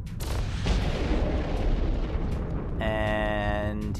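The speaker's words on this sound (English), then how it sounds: "I'm going to start shooting him just to get his attention and convince him to come closer" Ship weapons in the space game EVE Online fire with a heavy, rumbling, booming barrage that holds steady for several seconds, joined near the end by a bright electronic tone.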